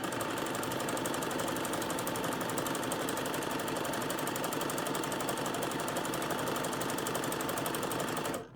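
A sewing machine stitches a bodice in one continuous rapid rhythmic rattle, close and steady throughout before stopping abruptly at the end.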